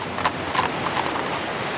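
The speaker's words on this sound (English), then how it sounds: "these horse-drawn trams are still the favourite with holidaymakers" Horse hooves clip-clop steadily on the road as a horse-drawn tram rolls along on the Isle of Man, several even hoofbeats in a loose rhythm over a constant outdoor rumble.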